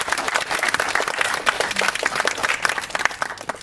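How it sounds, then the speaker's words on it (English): An audience applauds at a volunteerism research report presentation, a dense steady round of clapping from a sizeable crowd lasting throughout. "Ladies and gentlemen, a big round of applause for"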